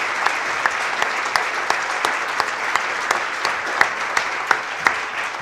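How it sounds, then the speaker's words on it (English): An audience at a food bank fundraiser gives volunteers and employees sustained applause, a dense, steady wash of clapping hands with a few sharper individual claps standing out throughout. "please let's give them a round of applause for the great work they do."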